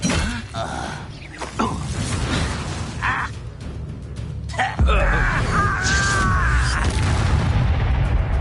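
Confringo blasting spell in Hogwarts Legacy: booming explosive bursts and creaking, groaning impacts, loud and close, with a sharp blast at midpoint followed by dense rumbling debris.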